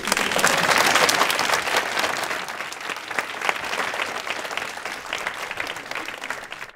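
An audience at a women and psychedelics forum applauds the donor organizations, with dense, steady clapping that fills the room, loudest at the start and easing slightly toward the end.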